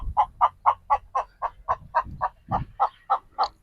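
A rapid, regular series of about fifteen nasal calls from village chickens, evenly spaced and fairly close, with no talking.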